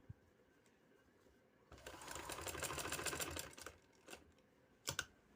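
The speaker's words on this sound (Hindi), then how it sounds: "चलें इसी तरह मैं लगाती हूँ सारा बखिया" A sewing machine runs in one steady, fast burst, stitching a design onto trousers, framed by faint taps and clicks before and after in a quiet room.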